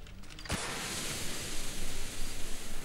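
A smoke grenade in CS:GO bursts open with a sudden onset, then gives a steady, broadband hiss that keeps going, loud and close, with no talk over it.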